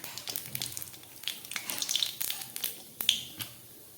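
Nigella seeds temper in hot mustard oil for a hilsa fish curry, making quiet, irregular crackles and sharp little pops over a faint sizzle, close up, with no voices.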